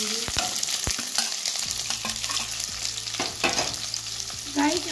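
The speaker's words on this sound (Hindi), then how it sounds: "अब हमारा जो जीरा खड़े मसाले जो ऐड है ना गाइज, वो चटकना चालू हो गया है" Cumin and whole spices crackle and pop in hot oil as a biryani base is started, a steady close sizzle broken by sharp spattering bursts and the scrape of stirring.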